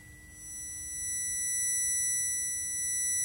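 A steady 2 kHz test tone played through a Marshall amplifier sounds as a piercing, constant pure pitch over a low background hiss, rising slightly in loudness and held without a break.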